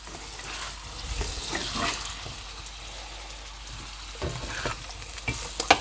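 Soft home-canned potatoes crisping in a pan over high heat, a steady close sizzle broken by a few light scrapes and stirs, with no talking.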